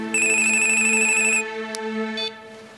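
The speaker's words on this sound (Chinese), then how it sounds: "你电话？" A telephone rings in a home during a domestic drama, giving a steady electronic tone with bright harmonics, loud and close. It cuts off partway and then sounds briefly again.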